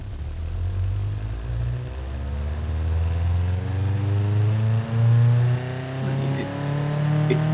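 A simulated car engine with a full race cam revs at high RPM in the Automation game, a loud droning tone with rising and falling harmonics that holds throughout, briefly dipping near the middle.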